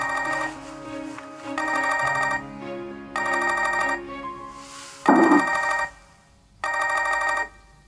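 A telephone rings in bursts of about a second with short pauses, five rings in all. The rings are fairly loud and close, with no talking over them.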